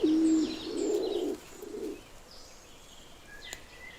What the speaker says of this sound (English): The laurel pigeon.